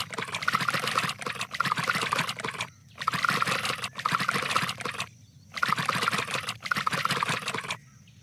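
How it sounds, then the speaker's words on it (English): Drinking water in the video game Malgamation Island: repeated bursts of gulping, splashy liquid sound, about five evenly spaced slurps separated by brief silences. "I'm gonna go drink some water."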